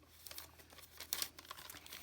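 Decorative craft paper for a handmade scrapbook album crinkles and rustles as it is handled, a soft, close run of irregular crackles with a sharper burst midway, no voices.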